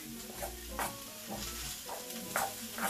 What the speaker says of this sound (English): So we stir it until it's like dough.